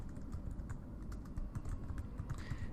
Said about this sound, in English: type in the search term